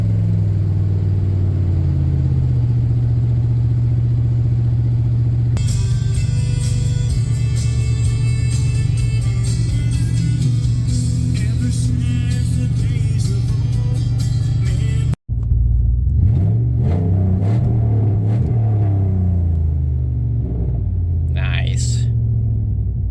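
The 4.7 Magnum V8 of a 2002 Dodge Durango SXT with 294,000 miles, just back on the road after two years parked, rumbles loudly at close range, swelling in revs and then settling, with a brief cut partway through.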